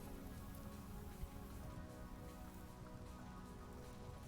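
Steady rain in the survival video game Vintage Story, a soft continuous hiss of falling drops on surfaces, even and unbroken throughout with no voices.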